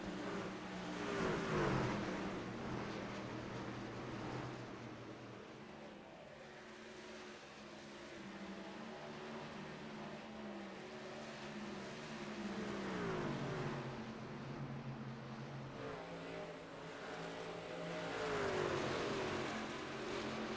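Race trucks in a stock-style truck series roar around an oval track through turns three and four, a continuous loud engine drone with rising and falling passes as trucks sweep by, no talking.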